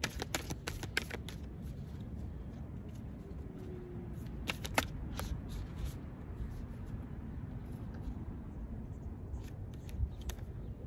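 Tarot cards being shuffled by hand, a near steady crisp riffling and flicking with sharper snaps in bursts at the start and middle, close and quiet with no speech.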